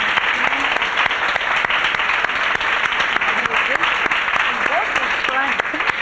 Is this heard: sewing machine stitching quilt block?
no